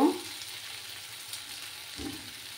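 Egg and potato curry being sautéed in a pan gives a faint, steady sizzle, with a brief stir or scrape near the start and again around the two-second mark.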